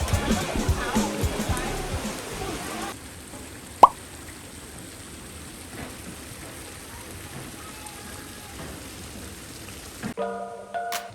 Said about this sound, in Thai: สรุปวันนี้ฝนตกครับ